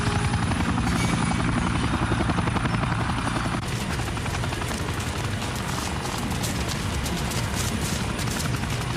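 A helicopter waits to take off during a prison-escape hostage scene in a French-dubbed action film. Its loud rotor chop thuds steadily at close range throughout, and the pitch shifts partway through as the engine changes.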